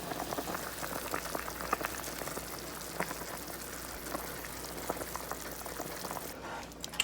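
Curry goat simmers in a pot with a steady bubbling, popping burble throughout, close and fairly quiet with no voices.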